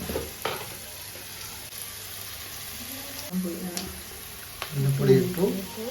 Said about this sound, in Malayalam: കാപ്സിക്കം തക്കാളി സവാള ഇട്ട് വഴറ്റുക അതാണ് ഇപ്പോൾ ഇവിടെ ചെയ്തുകൊണ്ടിരിക്കുന്നത്